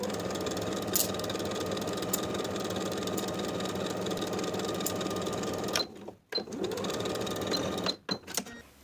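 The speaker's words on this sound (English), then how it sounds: "Sew with a 3/8 inch seam allowance and a regular straight stitch" A sewing machine runs a regular straight-stitch seam at 3/8 inch allowance on athletic top fabric, a steady mechanical whir for several seconds that stops abruptly, restarts, then halts again.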